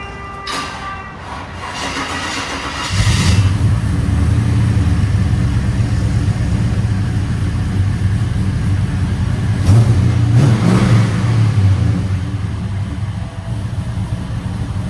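A cammed Chevy Impala SS 5.7L V8 with headers and Borla Pro-XS exhaust idles deep, lumpy, loud and close, then revs up with rough throaty bursts around the middle before settling back to a choppy idle.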